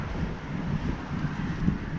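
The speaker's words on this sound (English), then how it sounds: "You see how windy it is?" Steady, buffeting wind roars across the microphone with low rumbling gusts while fly fishing for snook in Florida, constant throughout and no other clear sounds.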